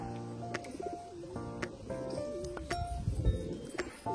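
Old household pigeons, a red pair, cooing repeatedly close by in soft rolling calls, with a few sharp clicks and rustles around them.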